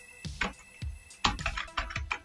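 Close, quiet clicks of typing on a computer keyboard, about a dozen keystrokes in short irregular bursts with brief pauses, with no voices.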